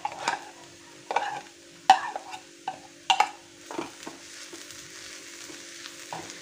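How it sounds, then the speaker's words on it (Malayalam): A spoon stirs vegetable samosa filling with carrot and a little beetroot in a pan, giving a series of soft scraping strokes at an uneven rhythm over a faint, steady sizzle, close and fairly quiet with no talking. "നന്നായി യോജിച്ച് തരട്ടെ ഇളക്കി കൂട്ടി കൊടുക്കണം"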